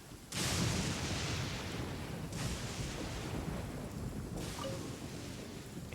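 A roaring thunderstorm in Genshin Impact, with heavy continuous rain-and-wind noise punctuated by three loud thunder cracks spaced a couple of seconds apart.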